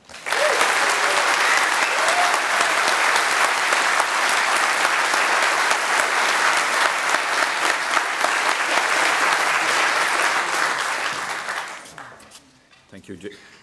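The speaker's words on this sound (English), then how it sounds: "please give a huge warm round of applause for Cris and Toshaan" A large conference audience at Config Management Camp 2023 in Ghent claps loudly and continuously for about eleven seconds, then the applause quickly dies away, leaving a few faint sounds.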